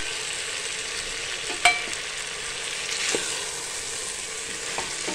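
Vegetables and paneer stir-fry in a pan for a pressure-cooker veg biryani, with a steady close sizzle, soft spatula scrapes and one sharp metallic clink early on. No voices.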